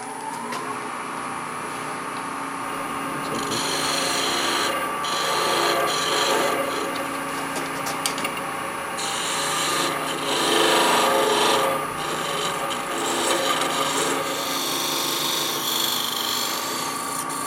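Close, rhythmic rasping of 600-grit sandpaper rubbing against wood, repeated strokes back and forth with no talking.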